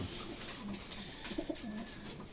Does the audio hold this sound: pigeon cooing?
yes